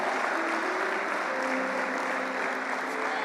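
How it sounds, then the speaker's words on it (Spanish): A church congregation applauds continuously, a dense, even wash of clapping with faint voices and sustained tones from music beneath it, steady throughout. "Vamos a dar un aplauso al Señor."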